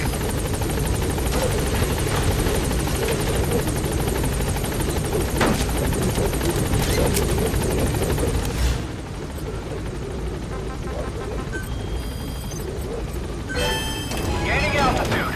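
Pequod support helicopter from Metal Gear Solid V hovering close and loud with a steady rotor drone, a pitch shift partway through and sporadic gunfire and thuds behind it.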